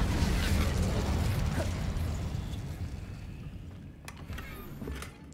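An Incendio fire spell cast in Hogwarts Legacy gives a loud, broad whooshing burst at the start that slowly fades over several seconds, followed by a few faint clicks near the end.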